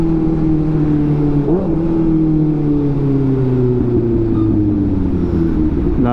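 2024 Kawasaki ZX-6R motorcycle with an AR exhaust being ridden, a loud steady engine drone close up with one brief rise in pitch partway through, then a long gradual fall as it eases off.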